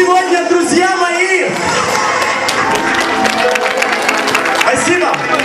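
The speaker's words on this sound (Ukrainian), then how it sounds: "Ваши аплодисменты" A concert audience at a Slavic bazaar event in Leeds applauds and cheers in a dense, continuous wash of clapping and crowd noise, with a voice carrying over it at the start.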